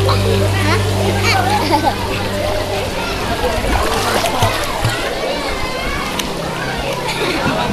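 Water splashes in a crowded waterpark pool during a holiday outing in Kalimantan, a steady wash of splashing and shouting children throughout, with adults talking close by.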